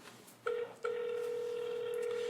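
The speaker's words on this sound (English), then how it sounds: "Let me see if I get him on the phone." Telephone dialing a call on a live show: a short tone blip followed by a steady, sustained dial tone held at moderate loudness, with no voices.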